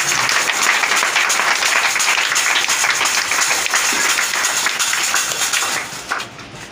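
Sustained applause from a church congregation, dense steady clapping at full volume that carries on without a break and thins out near the end.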